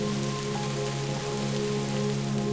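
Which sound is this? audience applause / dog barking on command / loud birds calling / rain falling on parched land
rain falling on parched land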